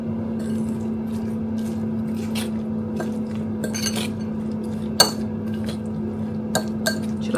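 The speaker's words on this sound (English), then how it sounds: "Adding in the cabbage." Shredded red cabbage tumbling into a bowl and being tossed among other vegetables, with soft scraping and a few light clinks of utensil against the dish over a steady background hum.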